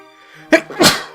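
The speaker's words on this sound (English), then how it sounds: "Hang on, I'm gonna sneeze again." A single sneeze, close and loud: a quick sharp intake followed by a forceful explosive burst.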